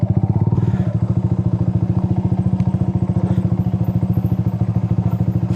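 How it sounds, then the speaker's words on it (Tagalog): A motorcycle used off-road chugs steadily and close by on a ride around Taal Lake, its pulsing rhythm continuous for several seconds, with a few light clatters and thumps over it. "Ginawa ko ng pang off-road to motor ko."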